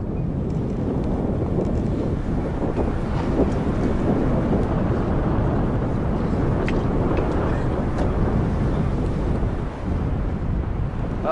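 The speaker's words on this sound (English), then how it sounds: "It's very windy." Strong wind buffets the microphone with a constant low roar and rumble, gusting throughout without letup, in Mongolia.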